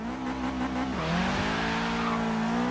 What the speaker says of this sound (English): A little bit of wheel spin, that's pretty good.